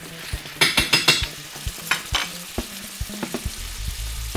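Food frying in a pan with Scotch bonnet-style hot pepper for a Jamaican ackee dish, a steady close sizzle broken by a quick run of sharp utensil scrapes and clacks, then scattered stirring knocks as the hiss continues.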